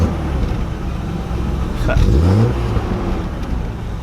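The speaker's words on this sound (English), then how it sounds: "Give her a rev. So quiet." A BMW E36 car engine with a repaired exhaust leak idles with a low, muffled rumble, then briefly revs up and settles back down, with a voice heard faintly.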